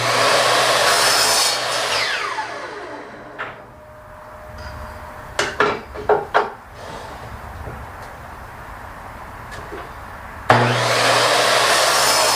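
A jute micarta block has its end sawn off during a bushcraft knife scale build: steady broadband sawing noise, then a quieter stretch with a few sharp knocks and clatters, then the loud cutting resumes near the end.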